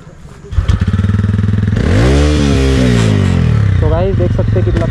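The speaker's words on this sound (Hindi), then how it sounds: "भाई एग्जॉस्ट एक बार सुना दे।" A motorcycle exhaust, on a TVS Ronin 225 or Bajaj Pulsar 150, idles loudly, then revs up sharply, holds a high rising-and-falling roar and drops back to a throaty idle, very close and loud, with voices shouting briefly over it.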